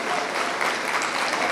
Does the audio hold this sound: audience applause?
yes